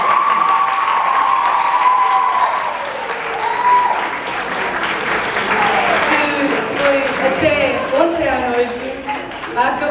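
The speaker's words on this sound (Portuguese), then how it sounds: "uma salva de palmas para a Kika." An audience at a KCAP 2018 show breaks into loud applause and cheering that swells and rolls on for the full stretch, with shouts and voices rising through the clapping.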